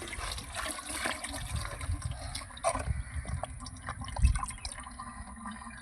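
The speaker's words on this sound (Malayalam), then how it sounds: "ഈ വെള്ളം ചെളിവെള്ളം നമുക്ക് ഇതിലേക്ക് ഒഴിച്ചു കൊടുക്കാം" Muddy water poured into a container while making soil clay, a soft gurgling trickle with irregular splashes and drips, close and moderately quiet, with no voices.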